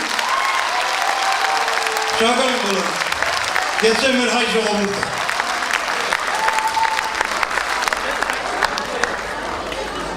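A crowd at an Armenian commemorative concert for Garegin Nzhdeh's 125th anniversary applauds continuously and loudly, while someone speaks briefly over the clapping.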